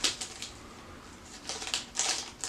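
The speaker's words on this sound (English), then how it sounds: "now would be a good time to use the hand scissors." Hand scissors snip through fabric while making a face mask, a few quick crisp cuts in short bursts, close and fairly quiet.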